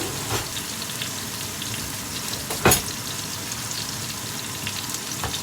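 Steak frying with butter in a hot pan gives a steady close sizzle with brief crackles and one sharp spatter, no talking.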